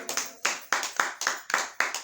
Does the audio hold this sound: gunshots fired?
no